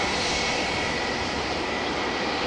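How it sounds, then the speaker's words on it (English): Steady jet engine roar from a Boeing 777 taxiing toward runway 24 at Amsterdam Schiphol, an even, sustained rumble and hiss with a thin whine on top, distant and unbroken, with no voices. "And the 777, whose engines we heard start up"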